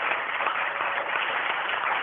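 Applause in a meeting room comes through as a dense, even patter of clapping with a band-limited, call-like tone, sustained and steady for about two seconds without voices.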